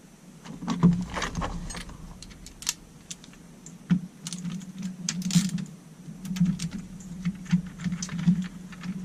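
Screws being removed with a hand tool while installing an NRG aftermarket steering wheel, a run of small clicks, metallic ticks and light clattering, close and uneven, with no talk.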